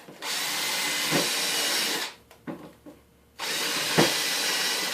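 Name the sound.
power drill pre-drilling into plywood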